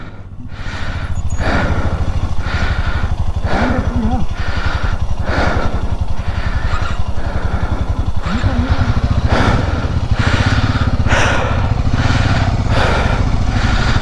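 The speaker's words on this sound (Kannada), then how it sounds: "Which is Himalayan 450. ನನ್ನ ಬೈಕು ಅವ್ರು ಓಡಿಸ್ತವ್ರೆ." A Royal Enfield Himalayan 450 motorcycle is ridden on a high-altitude mountain route, its engine a loud, steady close-up drone with regular rhythmic pulses, while someone talks over it throughout.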